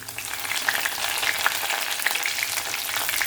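Curry leaves dropped into hot oil with mustard seeds, sliced shallots and a halved dried red chilli, crackling in a steady, close sizzle with small sharp pops from the spluttering seeds.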